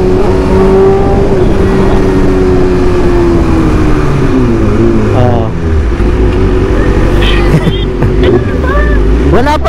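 A BMW S1000RR superbike revs hard in first gear, its loud, high engine whine rising and falling close by while someone talks over it.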